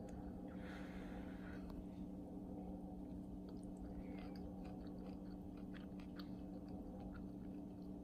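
Someone chews a mouthful of rice, steak and broccoli at a home dinner table: soft, close, wet mastication sounds, faint against a steady low background hum, with no talking.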